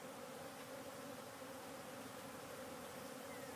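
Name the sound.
honey bees buzzing around a new hive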